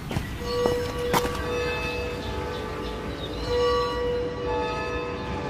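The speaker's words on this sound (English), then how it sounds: "You can hear the distant church bells of Florence's many towering cathedrals." Distant church bells from the towering cathedrals of Florence, several sustained ringing tones and strikes that hang over a steady wash of outdoor ambience.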